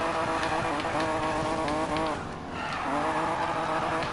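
A Datsun/Nissan 240Z drifting in a racing video game, with a loud, continuous engine roar and screeching tire squeal that dips briefly mid-slide before building again, without voices.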